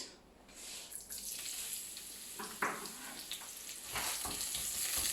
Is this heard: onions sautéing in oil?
yes